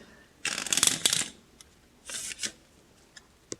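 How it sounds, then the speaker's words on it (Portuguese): A brand-new Spanish deck of playing cards being shuffled, two close crisp riffling bursts with a few light taps after, quiet and alone. "Então, vou dar uma embaralhada aqui. O baralho desliza bem, tudo tá bem novinho."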